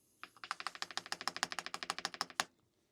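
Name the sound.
Keychron K10 HE keyboard space bar presses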